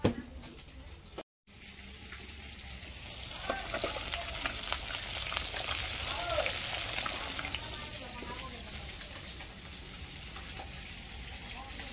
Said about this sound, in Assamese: মাছখিনি ভাজি লওঁ এতিয়া।